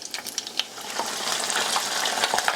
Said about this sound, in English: And we're going to fry these until they're nice and golden brown.